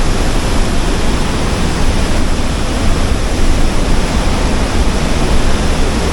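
A waterfall in Baños, Ecuador roars nearby as a loud, unbroken broadband rush of falling water.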